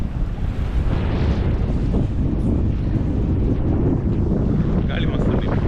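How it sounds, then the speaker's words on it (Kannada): Strong wind roars continuously across the microphone at a seaside beach, a loud, steady buffeting rush with the surf blending into it for the whole stretch. "ಗಾಳಿ ಮಸ್ತ್ ಉಂಟು"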